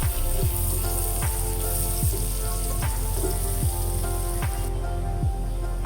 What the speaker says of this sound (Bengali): হালকা বাদামি কালার করে ভেজে নেব।